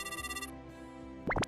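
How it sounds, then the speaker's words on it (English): A phone rings with an incoming call, its tonal electronic ringtone sounding briefly in a quiet room before a short sharp burst at the end, close by and with no talk over it. "It's a phone call."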